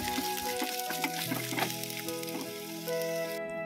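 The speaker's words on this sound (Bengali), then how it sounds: "কড়াইতে যে তেলটুকু বেশি ছিল তার মধ্যে দিয়ে দিয়েছি আলুগুলো একটু ভালো করে ভেজে নেবো" Potatoes frying in oil in a wok, a soft steady sizzle with some tonal hum and faint clinks in the background.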